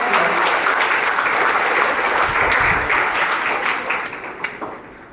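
Audience applause for the sisters at the platinum jubilee inauguration of an educational society, a loud, dense round of clapping that holds steady and then fades out with a few last claps.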